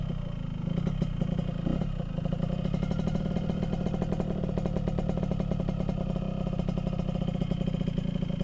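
Yamaha RX King motorcycle engine running steadily at close range near a dam in Makassar, a dense continuous two-stroke drone with rattling clatter and a loud, even level throughout, no talk.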